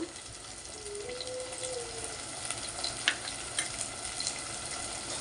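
Black pepper fries in a clay pot for an egg curry, giving a quiet, steady sizzle with a few soft pops and light stirring, no speech.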